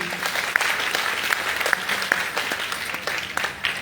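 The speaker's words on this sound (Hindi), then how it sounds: "मैं चाहता हूं कि आप लोग एक जोरदार तालियां परमपिता परमेश्वर के लिए।" Audience at a gathering breaks into enthusiastic applause, a steady burst of many hands clapping up close with a few sharper individual claps standing out.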